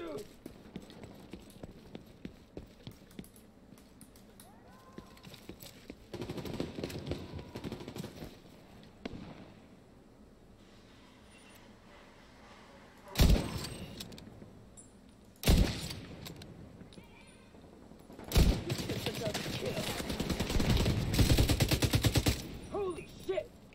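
Machine gun fire in The Division 2 comes in bursts, with loud sharp volleys late in the stretch and a sustained stretch of rapid shots toward the end, mixed with quieter game noise and someone talking at times.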